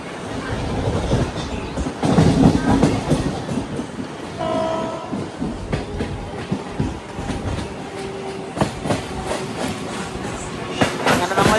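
The Tejas Express, a private Ahmedabad-to-Mumbai train, runs toward Churchgate station with a rolling rumble and rhythmic clickety-clack, and a horn sounds briefly partway through.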